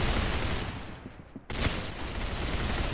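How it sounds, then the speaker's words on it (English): Sustained minigun fire in the Roblox shooter Arsenal, a loud, dense roar of rapid shots that dips briefly in the middle before resuming at full intensity. "Bro, why is there miniguns everywhere, bro?"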